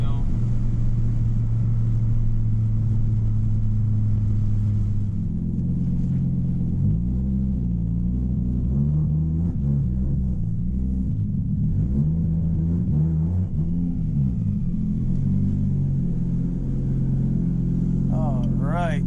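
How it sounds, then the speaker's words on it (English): An Audi UrS4 with a 20vt engine rumbles as it drives and pulls through its gears, engine tone rising and falling in steady sweeps, close and fairly loud, with talk heard over it. "Going in every gear, no problem. A little tight at first, but she's been sitting, so gotta get her warm up a little bit"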